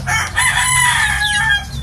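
A rooster crows loudly and close by among a flock of kept chickens, one long drawn-out call over steady background noise.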